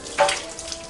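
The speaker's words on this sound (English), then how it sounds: "So you just wash your hands." Tap water splashes briefly as hands are washed at a sink, a short rushing burst that fades into a light trickle with no voices.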